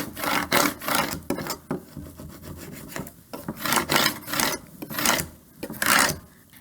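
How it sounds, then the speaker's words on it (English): A scraper tool rubs transfer tape down onto a wooden board in a series of rhythmic scraping strokes, close and fairly loud, with short pauses between passes. "now I can use my scraper tool to burnish it onto the board"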